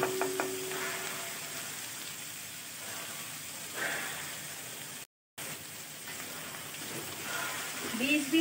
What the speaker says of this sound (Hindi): 4 से 5 मिनट तक इसको हम सारे सब्जियों को अच्छी तरह से रोस्ट करेंगे